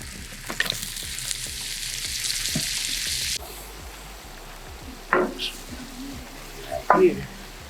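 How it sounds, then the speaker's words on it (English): A couple of sticks of butter melt and sizzle in a pan at a campground for roasted garlic butter sauce. A strong, even sizzle runs for about three seconds, then cuts off, followed by a few short voice-like bursts. "So while that's resting, I'm gonna make a good old roasted garlic butter sauce."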